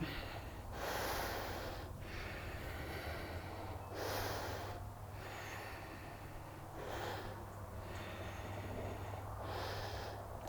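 Slow, deep Ujjayi breaths during a yoga session, roughly four audible hissing inhales and exhales in a steady rhythm, close to the microphone over a low background hum.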